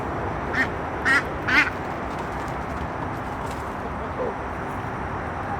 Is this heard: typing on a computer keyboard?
no